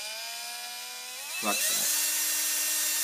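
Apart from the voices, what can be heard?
cordless drill running after switching direction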